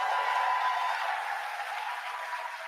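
An audience claps at a public event on lowering medication costs, producing a steady, fairly distant wash of applause that fades gently and carries no voices.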